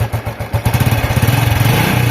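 Honda Wave110 motorcycle engine revving up from idle, a loud close pulsing putter that rises and holds at higher speed, heard alone.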